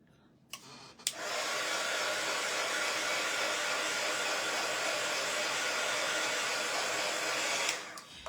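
A hair dryer drying paint on a DIY bunny-in-egg kit switches on with a click and blows in a loud, steady whoosh for about six seconds, then cuts off.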